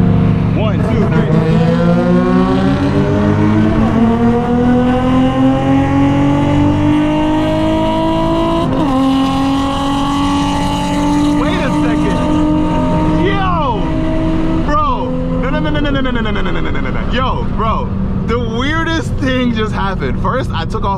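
A tuned Infiniti G35 and a Nissan 350Z accelerate hard in a street race, engines droning loud and rising steadily through the gears with a couple of brief shift dips before revving higher again.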